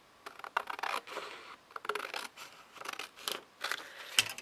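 Scissors trim material for a doll's dresser in a run of quick, close snips and crisp cuts, bunched into short bursts with brief pauses between them.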